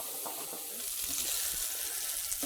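Mushrooms and onions browning in a hot pan for coq au vin make a loud, dense, continuous sizzle up close, with faint stirring scrapes and no voices.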